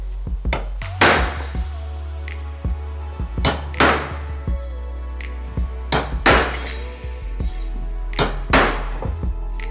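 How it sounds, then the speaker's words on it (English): Heavy lump hammer blows ring out against a metal panel, about a dozen loud, sharp clangs at irregular intervals over a low steady hum. "This time we're using a lump hammer."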